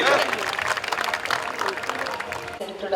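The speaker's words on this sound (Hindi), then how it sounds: "जोरदार तालियों से please put your hands together and just welcome sister Neerja" An audience at a Brahmakumaris meditation event applauds to welcome Sister Neerja, giving a dense, loud burst of clapping from many hands that holds steady, then dips briefly near the end.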